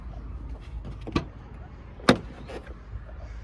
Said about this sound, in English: Power windows, power locks.